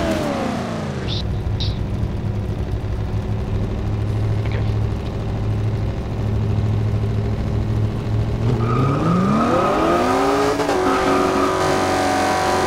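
In the Forza Horizon 2 racing game a 302 Foxbody V8 engine drones steadily, then revs and climbs sharply through the gears, with brief tire squeals, loud and continuous.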